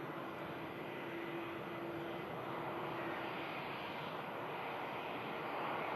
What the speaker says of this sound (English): Iberia Express Airbus A320 landing in from Madrid now.